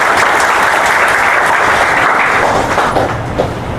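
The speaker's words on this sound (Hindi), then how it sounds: "इनके लिए जोरदार तालियां बजाइए।" An audience at a college admission event breaks into loud, sustained applause. The dense clapping stays strong and close for several seconds, then eases slightly near the end.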